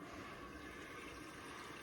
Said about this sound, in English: The toilet is filling. You can see the toilet and the water filling.